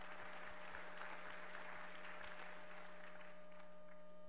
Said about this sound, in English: Come on, give a clap offering of praise to our Lord God.